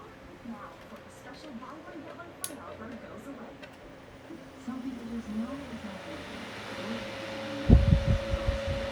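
A cheap electric fan motor spins up, its hum rising into a steady whine that grows louder toward the end, with a few clunks and low throbbing underneath and a person talking at the start.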